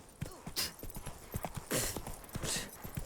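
Hooves of a horse in the video game The Witcher 3 clop steadily along a road at a trot, a rapid rhythmic patter with a faint whinny, sitting under quiet game ambience.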